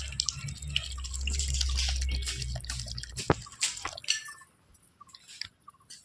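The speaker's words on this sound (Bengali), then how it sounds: "আমি আর একটু ঝোল দিয়ে দিচ্ছি, জল ঝোলের জন্য" Water is poured into a pot of simmering chicken curry with potatoes, making a steady gurgling, splashing rush for a couple of seconds, followed by scattered drips, a sharp clink and soft bubbling, all close and with no talking.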